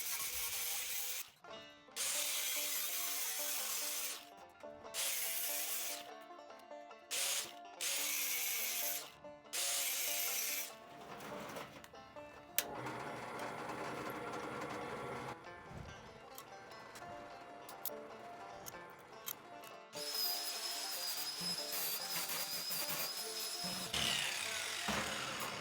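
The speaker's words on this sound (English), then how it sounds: "now it's time to cut out the stereo deck opening, grind off the sharp bits" An always-on angle grinder cuts the stereo deck opening in the dash of an old Ford F-150, with harsh, loud bursts of cutting broken by short pauses, then longer stretches of grinding on the plastic.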